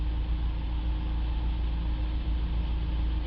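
Ford Transit Custom 2.2 Euro 5 diesel van engine idling, a steady low drone with a faint mechanical hum, constant and unbroken at moderate distance.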